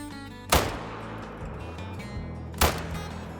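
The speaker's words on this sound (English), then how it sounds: "We are definitely gonna shoot it." Two loud, close hunting rifle shots ring out at a chamois in theHunter: Call of the Wild, each a sharp crack with a short rumbling tail, about two seconds apart over a low game ambience.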